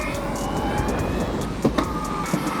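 An electric ride's motor accelerates hard under a pulled trigger throttle, giving a rising, siren-like whine over a rough rolling noise for a few seconds.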